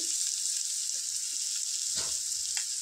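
Green chillies frying with ginger garlic paste and turmeric in a pan, a steady high hiss of sizzling oil throughout, with a brief stirring scrape near the end and no talking.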